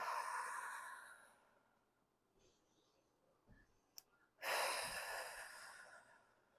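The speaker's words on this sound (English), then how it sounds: "take 4 deep breaths, releasing down on the exhale and up on the inhale and down" Deep breathing exercise: a long audible exhale fades out, a quiet pause with small clicks follows, then a strong, close inhale.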